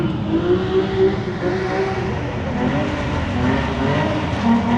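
A drift car with a Nissan VQ engine drives through at a Halloween drift 360 contest at Evergreen Speedway, its loud steady engine roar sustained and close throughout.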